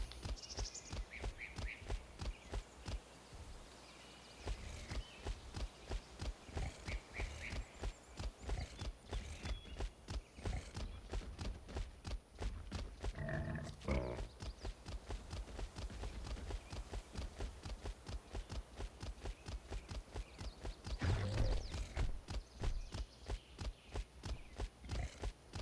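Horse hooves clip-clop steadily in the Equus Equity video game, a continuous rhythmic run of close, crisp hoofbeats, with a brief whinny partway through and no talk.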